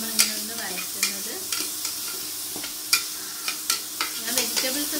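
Vegetables stirred and sautéed in hot coconut oil for fried rice: a steady sizzle punctuated by sharp scraping clinks of a spoon against the pan, close and irregular, with no talking.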